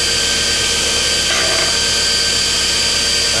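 Steady high-pitched whine and broadband hiss of a grinder wheel hollow grinding a Damascus steel blade, continuous and close, with a slight shift in tone partway through as the blade is worked.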